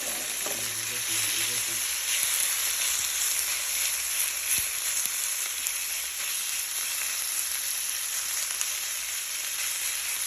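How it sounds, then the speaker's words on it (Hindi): Marinated meat fries in a pan with a constant, even, bright sizzle that holds steady throughout, plus a faint low knock near the start. "अपने गोश्त को ऐसे फ्राई करेंगे"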